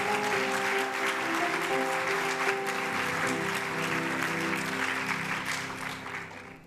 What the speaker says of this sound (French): je vous demande d'acclamer sincèrement